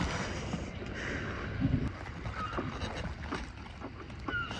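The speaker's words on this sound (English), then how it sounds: "We're sailing." A sailboat moving across open water, heading toward rocks, with steady broadband wash and wind noise on the microphone throughout, plus a few brief knocks and creaks.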